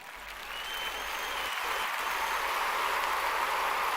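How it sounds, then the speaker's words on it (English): Steady applause from an audience, swelling in the first half second and then holding as a dense, even wash of many hands clapping without pause. "Hey, I got a classy clap"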